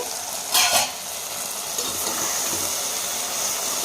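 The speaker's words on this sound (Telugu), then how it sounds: "బాగా మగ్గుతున్నాయి బంక లేకుండా చక్కగా వేగుతాయి అన్నమాట" Okra pieces fry in a pan with a steady, close hiss of oil, and a brief scrape of stirring comes near the start.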